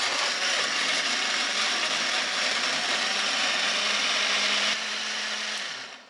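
A personal blender with a copper motor runs continuously, grinding at high speed with a loud, steady whir that drops off and winds down at the end.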